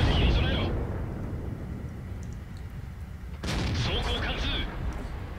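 Heavy tank cannon fire in World of Tanks from a Tiger I heavy tank: two loud, deep booming blasts, one at the start and one partway through, each trailing off in a broad rumbling roar.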